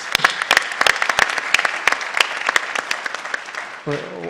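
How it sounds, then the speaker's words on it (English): An audience gives a round of applause at a public civic event, crisp individual claps close by over a softer crowd clapping, with a voice starting to speak near the end. "a round of applause for her service"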